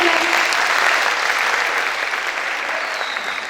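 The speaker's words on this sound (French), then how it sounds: "vos forts applaudissements à Monsieur Jihad" An audience at a lecture on the cosmos breaks into steady, loud applause, a full hall clapping evenly for a few seconds and then tapering slightly.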